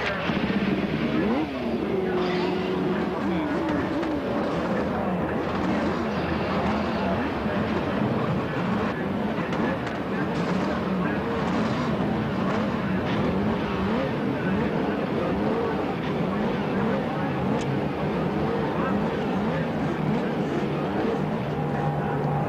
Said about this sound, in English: command by Mayor Coleman Young of Detroit, the engines are fired into life on a day that is overcast, but at the moment